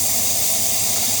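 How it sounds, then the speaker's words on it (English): An espresso machine steam wand fitted with a 3-hole tip hisses steadily and loudly, a continuous, dry, powerful rush of steam with no pauses and no voices. "it's a steam power test, and I'm using a 3-hole attachment on the steam one"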